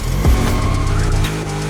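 A DeLorean built as a drift car in The Crew Motorfest revs hard as its tires squeal briefly in a slide, a loud, close engine note that then settles into a steady drone.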